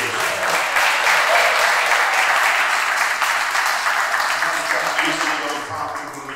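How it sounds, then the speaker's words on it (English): Sustained applause from an audience at an art opening reception and panel discussion, honouring a curator; dense, steady clapping throughout that eases slightly toward the end. "We can't go any further without giving an applause to Miss Michelle May Curry."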